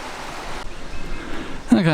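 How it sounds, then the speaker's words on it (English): Low-flowing river water runs over a wide rock bar on the Margaret River in Western Australia, a steady close hiss and wash with a brief louder splash near the end. "Not a lot of water flowing at the moment."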